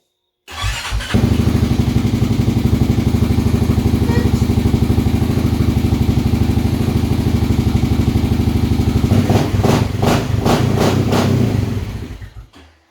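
Close by, a 2019 Honda Rancher 420 ATV engine catches and settles into a loud, steady idle as it warms up, with a few sharper bursts near the end before it fades.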